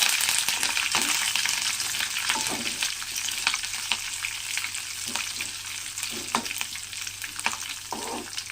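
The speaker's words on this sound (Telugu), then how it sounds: "ఇలా కరివేపాకు చిట్పట్ అంటుందన్నమాట" Curry leaves crackle and sizzle in hot oil in a village-style kitchen, a close, steady frying hiss broken by sharp pops and occasional stirring scrapes.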